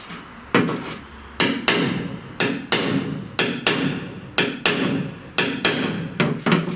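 Hammer blows ring out on a body spoon held against the inner door panel of a 1969 Chevrolet C10, about ten sharp metallic strikes at a steady, unhurried pace, each with a short ringing decay, close by and with no talking.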